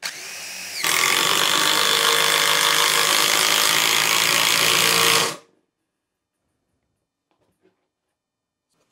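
A Dewalt impact driver sinks a 3-inch lag screw in one loud, continuous burst of hammering lasting about four and a half seconds. It stops abruptly and leaves near silence.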